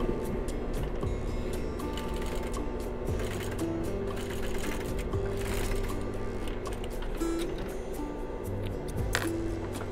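A sewing machine stitches a strap made from recycled denim jeans for a large bag, running steadily and continuously with a mechanical whir throughout, fairly close.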